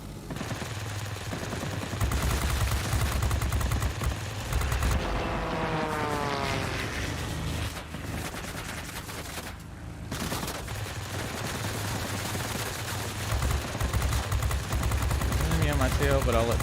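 A tail gunner's machine gun in World of Warplanes rattles in continuous rapid bursts over a droning aircraft engine, with someone talking throughout.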